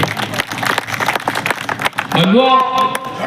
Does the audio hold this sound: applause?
yes